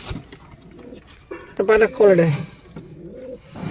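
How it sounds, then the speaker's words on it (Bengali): Pigeons at a market pigeon sale coo in soft throaty bursts, a few close calls rising briefly over a quiet background with voices nearby. "আসলে এই কবুতরগুলো অনেক কোয়ালিটিফুল কবুতর"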